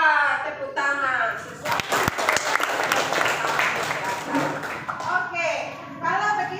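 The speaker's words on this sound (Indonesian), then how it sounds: "Ya, tepuk tangan." A school classroom bursts into hand clapping, a dense patter of many hands mid-clip, with a teacher's voice speaking before and after the applause.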